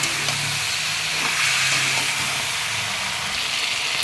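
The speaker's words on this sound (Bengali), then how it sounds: "এবার এটাকে একটু কষিয়ে নেব।" Steady hiss and sizzle of chicken masala with turmeric and chicken spice frying in a pan, a continuous sound with no pauses throughout.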